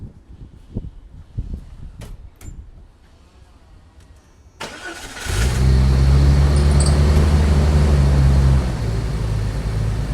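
An old Jeep's engine cranks after a few quiet clicks and handling noises, catches, and settles into a loud, steady, close idle that continues to the end.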